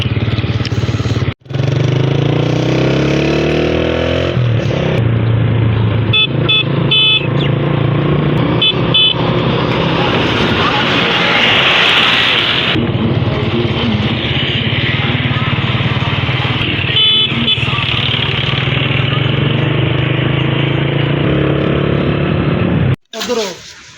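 A scooter engine runs steadily and loudly throughout, with a droning low hum and occasional revving, while people talk nearby.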